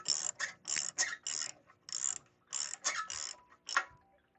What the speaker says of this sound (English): I'm going to try and spin these on by hand just to see if the bolt is going to turn or not.